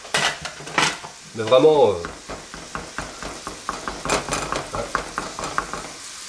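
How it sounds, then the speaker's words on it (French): A chopped shallot with a little oil cooks in a frying pan, with soft sizzling broken by scraping and knocks of a utensil stirring against the pan, while a person talks over it. "Et là on va la faire sécher un petit peu, comme ça, à la poêle."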